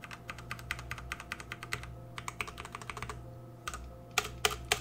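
Typing on a METOO ZERO budget mechanical keyboard fitted with KO Red switches, with close, crisp key clacks in quick runs that pause briefly and then resume in short bursts. No one speaks.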